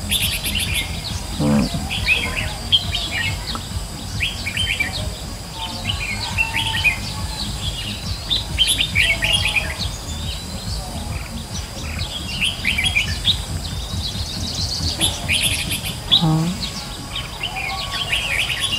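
A decoy bird used for trapping sings in outdoor countryside, its bright chirps and trills repeating throughout over a busy background of insects and rustling, with occasional faint sounds of people nearby.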